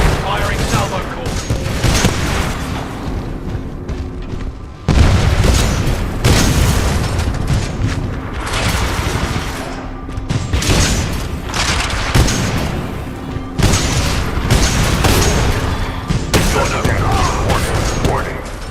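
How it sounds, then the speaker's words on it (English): Titanfall 2 Titan unleashing its salvo core, a long barrage of booming missile launches and explosions in repeated bursts with brief gaps, loud and close, with a robotic voice speaking over it. "Firing salvo core."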